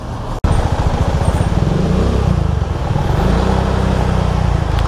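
Dense road traffic near KM4 in La Trinidad, Baguio, heard from a vehicle in slow traffic: a steady, loud rumble of engines with constant low droning, alone and without a break after a brief dropout at the start.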